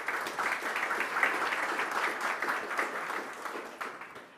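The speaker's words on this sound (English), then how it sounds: "Can we give a round of applause to our panelists?" An audience at a climate panel discussion at SXSW 2024 claps for the panelists, with steady applause near and clear that tapers off at the end.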